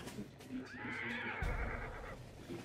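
A horse whinnies in the Hunt: Showdown video game, one rising, quavering neigh at mid-distance that lasts about a second, with low rumbling game ambience and faint background voices around it.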